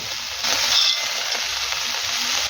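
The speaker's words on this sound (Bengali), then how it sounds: "লতির সাথে আলু আর বেগুনটাকে বেশ ভালো করে মিশিয়ে নেব" Pointed gourd vines, potato and eggplant stirred in a frying pan with a loud, constant hiss, with a faint metallic clink from the utensil partway through.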